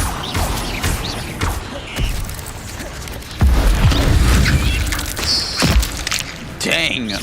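In Hogwarts Legacy, the Incendio fire spell is cast repeatedly, each cast a loud whooshing burst with thuds, mixed with game effects as a player speaks between casts.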